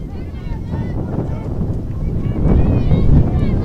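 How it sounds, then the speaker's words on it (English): Wind buffets the microphone outdoors at a college softball game. The low, rumbling gusts are steady and loud throughout and grow stronger toward the end. "the wind's still blowing right at us, as I know you can hear at home"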